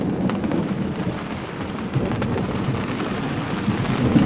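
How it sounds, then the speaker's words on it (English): Light rain patters steadily over a boat anchored in a bay on the Italian Riviera, with low rumbling thunder rolling underneath, dense and continuous with no voices. "here is just a little bit of rain with some thunder and lightning"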